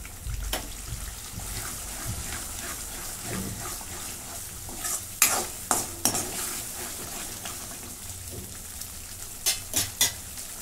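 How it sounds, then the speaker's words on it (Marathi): Paneer masala gravy roasting in a pan hisses in a low, continuous sizzle, broken by sharp scrapes and knocks of a spoon stirring against the pan, close and without talk. "आता ग्रेव्ही पण ही चांगली 2-3 मिनिटं भाजून घेतली"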